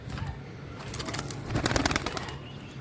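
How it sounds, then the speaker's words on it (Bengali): Domestic pigeons loosed from their coop, with broadband bursts of wing flapping building toward the middle amid soft coos, close by and fairly loud, no talk. "আমার সারার আগে এমনি ছুটে গেছে কবুতর"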